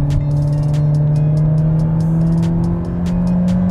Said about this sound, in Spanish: Un paso más y voy a modo sport. 2000 suelto. Y acelerador a fondo.